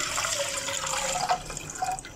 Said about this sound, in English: Now here I have 550 ml of water that's gonna go in.